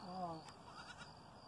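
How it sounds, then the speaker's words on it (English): Goats bleat at a farm where the animals are rented out to clear vegetation, with a clear, nearby bleat at the start and voices talking over and around it. "More goats."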